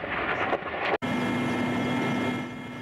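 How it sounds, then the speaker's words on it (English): Military helicopter flying near a conflict zone to evacuate wounded, a steady rotor and engine drone with a constant low hum holding loud after a brief cut, no voices. "A military helicopter is sent to pick up the wounded from Avdiivka."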